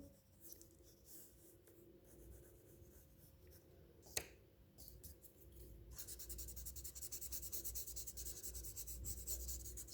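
A soft pencil shades a tonal drawing of spheres and cylinders on paper. The scratching is faint at first, with a single sharp tap, then turns into a louder, steady, rhythmic back-and-forth rubbing up close.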